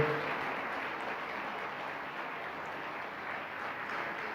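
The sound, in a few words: congregation applause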